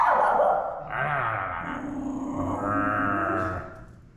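A friendly dog in a Vietnamese village at a motorbike repair spot lets out close, drawn-out growling barks and grunts in a few long, throaty bursts.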